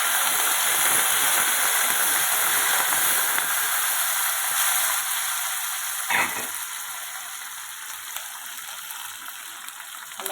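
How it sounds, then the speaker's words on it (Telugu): Curry leaves and green chillies sizzle in hot tempering oil for mango pulihora, a steady bright frying hiss that fades slightly near the end, with one short sputter midway. "ఇందులోనే నేను కరివేపాకును పచ్చిమిరపకాయలు కూడా వేసేస్తున్నాను"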